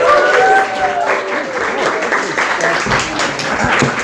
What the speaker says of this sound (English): Everyone, nice round of applause.